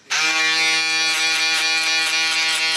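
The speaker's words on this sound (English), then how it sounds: "Just gonna hit it with my shaver" A barber's electric shaver switches on abruptly and buzzes loudly and steadily up close, a bright harmonic drone with a slight pulsing wobble.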